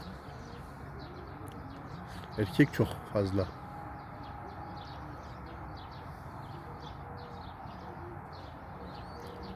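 Pigeons coo in a loft, a short cluster of soft coos in the middle against a faint, steady background with someone talking.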